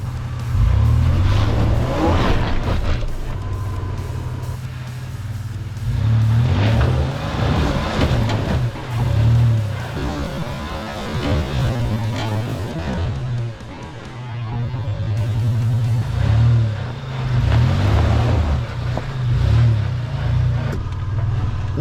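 A third-generation Toyota 4Runner revs hard while its rear tire spins in a hole off-road, loud surging engine roar rising and falling in repeated bursts, with a voice briefly heard.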